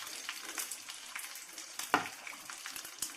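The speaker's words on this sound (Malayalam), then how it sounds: "അപ്പോൾ ഇതൊന്ന് തിളക്കട്ടെ." Small onion sambar simmers to a boil in a pressure cooker, giving faint, soft bubbling with scattered pops and crackles at an irregular rhythm.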